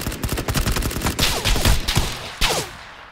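Rapid bursts of gunfire in the battle royale game PUBG, repeated close shots forming fast volleys with sharp reports and short echoes, alone without talk.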